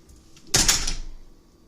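A heavy hotel room door in Florence swings open or shut, giving one short, fairly loud bump and rush that fades within about a second against a quiet room.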